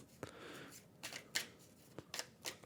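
Cards for the Endeavor: Deep Sea board game being shuffled by hand close up, a series of quiet riffling bursts and soft snaps at an irregular rhythm, faint and alone.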